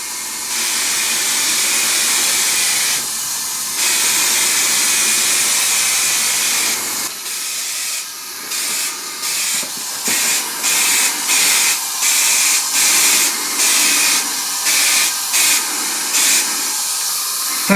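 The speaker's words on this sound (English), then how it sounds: "I'll just use this aerosol gloss black" An aerosol can sprays gloss black paint onto rear shock absorbers during a car restoration, giving a loud, close hiss that runs in long steady passes and then breaks into a series of short, rhythmic bursts.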